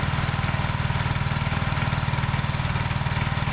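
The gas engine of a Simpson PowerShot PS3228 3200 psi pressure washer runs below full throttle, a steady, rapid low chugging pulse close by that stays even throughout.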